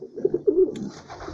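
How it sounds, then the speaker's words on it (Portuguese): Racing pigeons in a loft in Sarzedo, Minas Gerais, give a few close, soft throaty coos in quick succession, followed by quieter rustling and room noise. "mostrando a criação de pombo correio dele aí, ó, em Sarzedo, Minas Gerais"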